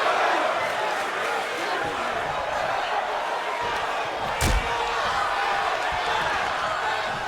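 Wrestling crowd at a Fully Loaded Wrestling show cheering steadily in a dense, continuous roar, with a single sharp slam or smack cutting through midway.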